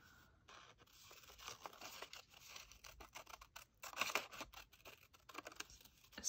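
Paper being cut out with scissors for a collage, quiet intermittent snips and rustling crackles at close range, irregular in rhythm with no talk.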